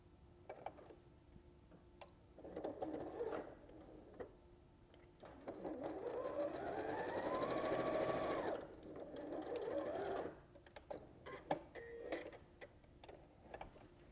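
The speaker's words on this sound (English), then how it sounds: "So now I'm going to sew these pieces together." A sewing machine stitching quilt block pieces together, a close, fast mechanical whirr that speeds up and slows in bursts, with short pauses and light ticking clicks between runs.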